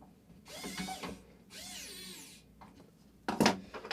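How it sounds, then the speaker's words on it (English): A small lithium electric screwdriver drives screws into a MasterFrame 700 testbench frame in two whirring bursts of about a second each, then a louder, sharper clatter near the end, close up with no talk. "my teeny tiny electric driver. I might have to go in and tighten that after the fact"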